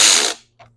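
A ratchet wrench loosens the 10 mm nut on the negative battery terminal of a Honda, giving a close, quick burst of ratcheting followed by a pause and one short, softer click.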